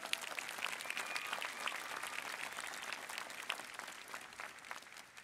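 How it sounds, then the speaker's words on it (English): Steady applause from a crowd at a university commencement ceremony, sustained and fairly distant, with no voices over it. "I deserve a round of applause"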